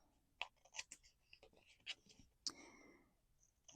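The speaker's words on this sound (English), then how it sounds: "So I'm just cutting right where the tape ends." Hand scissors snipping paper along the edge of tape while assembling a colorful mini journal craft kit, a few close, quiet crisp snips and rustles spread across the moment.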